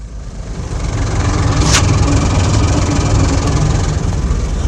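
A Bedford truck's heavy engine idles steadily in Pakistan, a deep low rumble filling the whole clip, with a brief higher clatter partway through and no voices.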